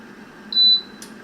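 A single short, pure electronic beep from the touch button of a Silvercrest SHFD 1400 C1 digital air fryer, clear and close over a low fan hum, followed by a faint click.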